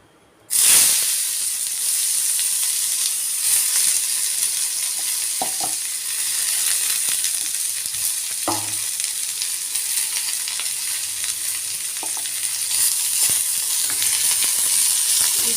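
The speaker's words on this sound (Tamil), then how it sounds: "அந்த தோல் சீவி வச்சுருக்கிற பீர்க்கங்காய் தோலை எண்ணெயில் போட்டு வதக்கணும்" Ridge gourd peel sautéing in hot oil in a pan, a steady loud sizzle and hiss running nearly the whole time after a sudden start, with occasional faint stirring knocks underneath.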